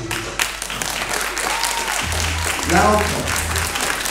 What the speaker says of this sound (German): Applaus, Kieschen, und auch zusammen.